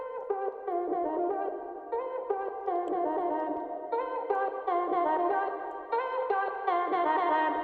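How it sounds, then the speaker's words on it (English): Chopped vocal melody for a song intro, made of short pitched syllable slices stitched into a bright, steady electronic hook with echo and reverb, playing continuously for several seconds with no talking. "The original vocal chopped melody that I have for the intro sounds like this."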